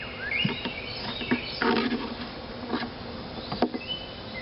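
Honeybees buzz around an opened swarm hive during re-queening, a close, busy hum with individual bees zipping past the microphone in short, darting passes.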